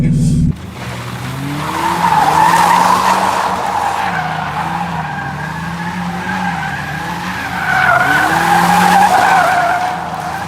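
BMW E36 328ti Compact with a welded differential drifting, its tires squealing in long wavering screeches over the revving engine, swelling and easing in two broad passes.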